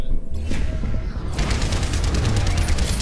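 Bursts of rapid gunfire and mechanical clatter from the video game Overwatch, loud and continuous over a dense background of game effects.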